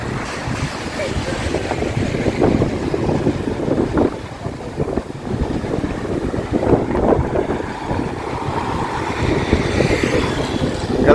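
Strong, cold wind at Haedong Yonggung Temple in Busan, South Korea, buffets the microphone in a continuous low rumble and roar, gusting unevenly throughout.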